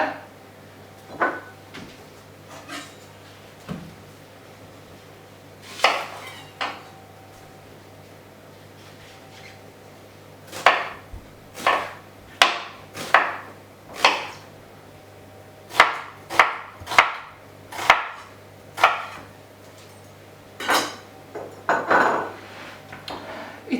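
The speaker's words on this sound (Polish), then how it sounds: "na początku pokroję cebulę w piórka, takie grubsze" A knife chopping onion into thick slices in a home kitchen, heard as a string of sharp knocks on a cutting board that come irregularly at first, then in quicker bursts, over a low steady hum.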